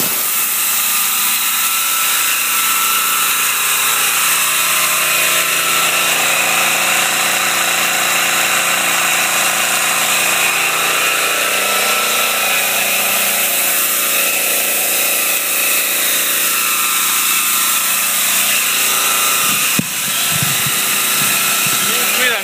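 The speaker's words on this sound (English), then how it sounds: "Getting ready to plug the air compressor in. Gonna put under pretty much a full load." An air compressor drives a home-made generator under nearly full load, giving a loud, steady mechanical drone with a high whine and shifting harmonics that runs without a break throughout, while a voice talks over it.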